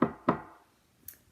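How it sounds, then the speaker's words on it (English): Two sharp knocks on a wooden door, close and clear, spaced about a quarter second apart, then a faint light tap after a pause. "So he knocked on the door and said,"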